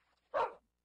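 A single short dog bark from a Minecraft dog, close and fairly quiet, alone against near silence.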